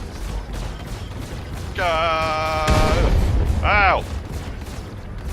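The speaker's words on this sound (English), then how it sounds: "That was a missile on my ass." A missile strikes the player's spaceship in the game Star Citizen, landing as a sudden heavy boom that cuts through steady engine rumble. A voice cries out over the impact.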